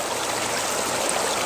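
Water rushes steadily through a fluid bed gold sluice with a classification plate, a dense, even hiss of flow close by with no pauses and no voices.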